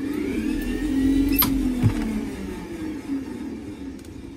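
A CitiCar electric car's motor turning the wheels during troubleshooting of its Alltrax controller, a steady low whine and hum with a brief sharp click partway through, close and moderately loud.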